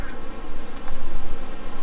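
Dense, loud buzzing of many honey bees inside an 8-frame hive box, a constant droning hum that swells slightly in waves.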